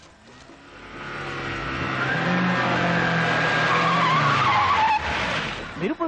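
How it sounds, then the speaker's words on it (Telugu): A car races in and skids to a stop, its engine rising and its tires squealing in one long, loud screech that ends abruptly, with background music over it. "మెరుపు వేగంతో కారు వచ్చాగింది."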